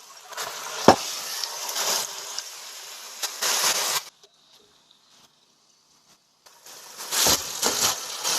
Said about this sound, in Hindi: रंगत चेंज होने तक चिकन को मैं फ्राई करूँगा।